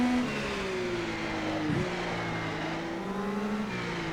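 An Indycar in rFactor 2 accelerating out of the long pit-lane exit at the renovated Zandvoort circuit, a steady engine whine rising in pitch through the gears, with a brief dip at a shift.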